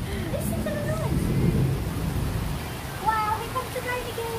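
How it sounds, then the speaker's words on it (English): Steady rain hisses during a storm in Thailand, with a low thunder rumble swelling early on and voices talking over the downpour. "here comes the rain again"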